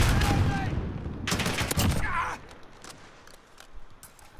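Frag rifle fire in Call of Duty Modern Warfare, a loud dense burst of rapid game shots and blasts in the first half, then quieter scattered clanks and mechanical sounds.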